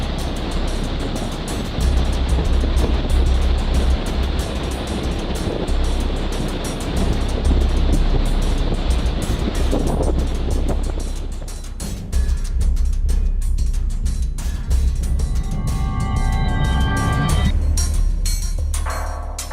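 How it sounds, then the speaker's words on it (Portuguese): Rough, stormy sea surf pounding around the São Pedro e São Paulo archipelago, a tiny remote rocky island group in the open Atlantic; a loud, continuous roar of crashing waves and wind, with the texture shifting partway through. "Hoje, o mar está em fúria."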